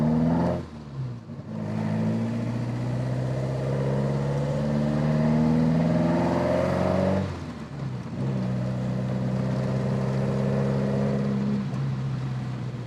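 A modified Opel (Vauxhall) Kadett engine revs up in a long, rising drone, drops off sharply and then revs again, loud and close, with a throaty, distinctive throttle note.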